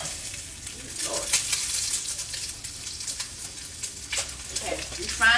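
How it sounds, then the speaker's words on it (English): An egg fries in a hot pan for avocado toast, giving a continuous bright sizzle with occasional louder crackles, close to the microphone, with a voice faintly in the background. "you frying the egg"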